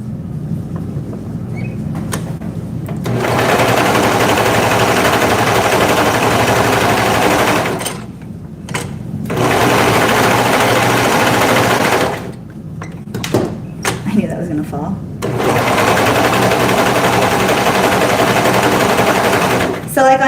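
Sewing machine stitching fabric in long continuous runs of rapid mechanical chatter, stopping briefly between seams, loud and close in a small work shop.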